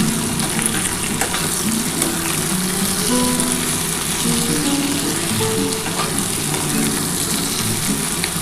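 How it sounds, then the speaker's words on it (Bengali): Potatoes, bitter gourd and pointed gourd sizzle and crackle loudly in hot oil with fish fat, a constant close-up frying hiss that continues without a break. "এটা দিয়ে একটু ভালো করে ভাজা ভাজা করতে হবে"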